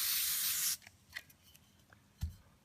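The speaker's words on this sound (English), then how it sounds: "I'm going to spray from here around to here 2 or 3 times" WD-40 spray lubricant hisses onto a pair of secateurs in one steady burst of under a second, followed by faint clicks and a soft knock as the tool is handled.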